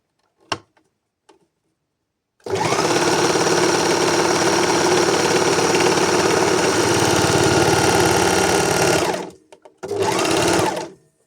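Sewing machine stitching baby rompers, running in one long steady whirring burst of rapid needle strokes, then a short pause and a second brief run, loud and close, with a few faint clicks before it starts.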